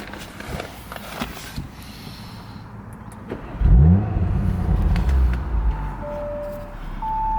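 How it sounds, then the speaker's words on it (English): Audi RS5 Sportback, a 2019 model, warmed up and idling before a sharp rev flares up, then settles into a raised idle with a few smaller blips, close and fairly loud. "the vehicle is warmed up, so I'll rev it for you"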